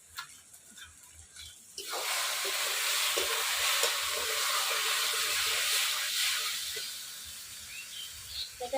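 Food sizzles loudly in a hot pan in a village kitchen as a spice paste with cumin, sugar and a little water is stirred in, a broad steady hiss rising suddenly and continuing close, with scattered scraping taps.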